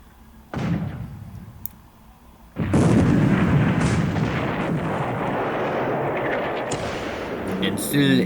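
Naval gunfire from 8-inch and 6-inch guns striking warships in the War in the Pacific strategy game: a sharp blast, then a second heavy impact opening into sustained loud rumbling, crackling explosions that carry on to the end.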